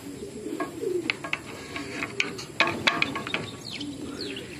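Racing pigeons cooing inside a transport truck: soft, repeated low coos with scattered wing flutters and small clicks, close by and fairly quiet, with no talking.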